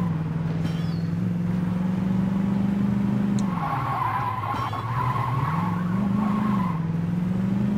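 A low-powered car engine hums steadily while driving in Saints Row 2, its pitch rising and falling with the throttle, and a tire squeal cuts in midway.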